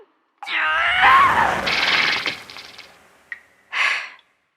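A loud, strained frustrated yell rising and breaking, followed by a short sharp sound and then a brief breathy exhale, all close to the mic.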